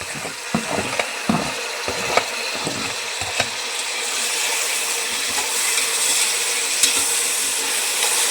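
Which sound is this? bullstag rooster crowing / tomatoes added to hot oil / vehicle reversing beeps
tomatoes added to hot oil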